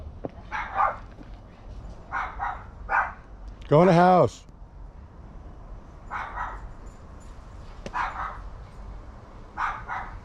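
Several dogs bark outdoors by a garden in short, loud bursts spread across the stretch, including one strained, whining bark, while someone briefly speaks between them.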